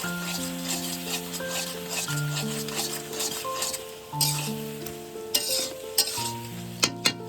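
Banana flower (mocha) curry is stirred in a pan over a gas flame: a low frying hiss carries on beneath repeated spatula scrapes and knocks that come closer together toward the end, with music playing softly behind.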